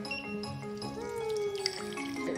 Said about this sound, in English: I'm just getting this whole filter all wet